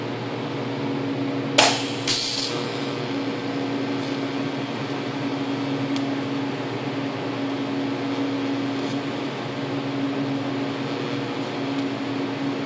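TIG welding fills a joint on a steel motorcycle battery box, using 1/16-inch ER70S2 filler rod and a thoriated tungsten with a number 6 cup. A steady, faint electrical hum runs throughout after a couple of sharp clicks at the start.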